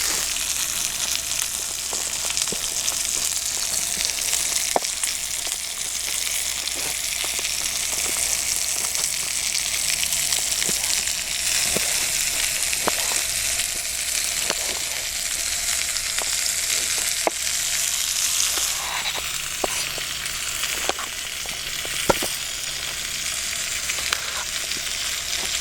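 Steak with onions and orange peppers sizzles steadily in a pan on a vintage Coleman stove outdoors in the bush, a constant close hiss with scattered sharp pops and crackles throughout and no talking.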